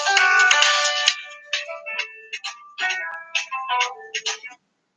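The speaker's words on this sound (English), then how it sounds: "Sorry, there's a phone call." Electronic phone ringtone plays a repeating melodic pattern loud and close, breaking into short bursts, as an incoming call rings through.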